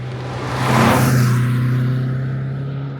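A Peugeot 306 GTI 6 accelerates hard, its engine rising into a loud, close rev that swells and then holds a steady droning note before easing slightly.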